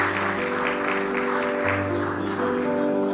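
Steady applause fills a hall at a school sports awards ceremony for a provincial education office after the national sports festival, with sustained music tones underneath the clapping.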